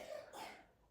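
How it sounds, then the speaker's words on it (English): A single soft cough, somewhat distant, with no other sounds around it. "So you might be able to hear a cough, cough, cough in the background."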